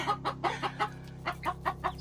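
A broody hen sitting on buried eggs clucks steadily in soft, repeated pulses, close and fairly quiet, over a low background hum.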